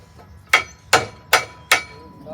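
Children strike horseshoes with hammers at a farm, four sharp metallic blows spaced evenly apart, loud and close, with a quiet background between the hits.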